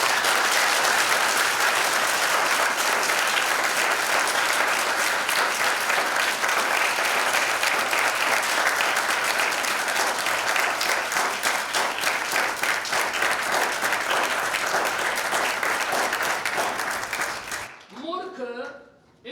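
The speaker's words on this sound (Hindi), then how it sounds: "यदि हाँ तो मेरे यीशु के लिए ताली बजाएं।" Sustained, loud applause from a church congregation praising Jesus during a Hindi sermon, dense clapping running steadily for about seventeen seconds before dropping away abruptly into near silence.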